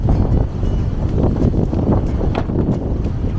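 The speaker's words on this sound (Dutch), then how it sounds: "Oh, het waait." Steady outdoor wind buffets the microphone with a loud, continuous low rumble and no clear talking.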